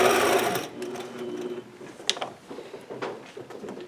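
A sewing machine stitches during quilting ruler work, a steady motor whir that is loudest at the start, then eases to a lighter, uneven run of needle clatter and small mechanical knocks, close and alone.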